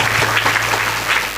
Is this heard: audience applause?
yes